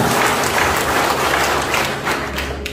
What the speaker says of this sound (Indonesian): tepuk tangan dong buat BTBS ya